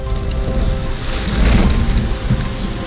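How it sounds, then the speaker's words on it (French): Steady rain falls without pause, a dense hiss and patter that swells slightly midway, with no voices. "Moi il pleut."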